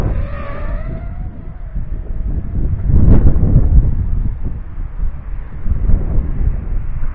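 Gusty wind buffets a microphone outdoors during a Holy Stone HS150 drone flight, a loud low rumbling roar that swells and eases, with a faint whine fading early on.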